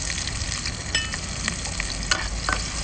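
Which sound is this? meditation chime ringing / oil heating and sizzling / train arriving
oil heating and sizzling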